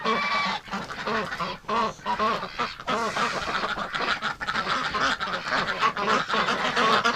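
Wintering domestic ducks and geese honk and quack in cold weather, a busy, continuous chorus of overlapping nasal calls from a nearby flock with barely a pause.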